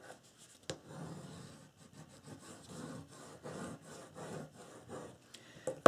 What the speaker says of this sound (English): I'm going to burnish that down really well.